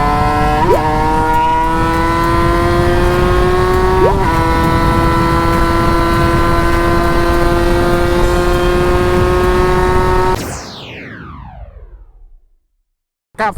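A Honda Nova motorcycle engine hums steadily on a run-in ride toward an off-road track, its tone stepping up in pitch twice as it pulls. It then fades sharply with a falling sweep into near silence.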